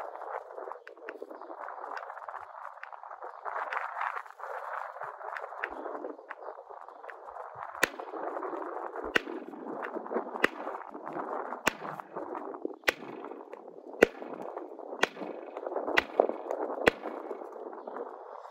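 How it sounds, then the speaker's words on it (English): A hammer stone strikes an obsidian core during flint knapping outdoors at Çatalhöyük, giving about eight sharp, faint clacks at irregular intervals over constant wind rumble. "Let's go for it with this hammer stone."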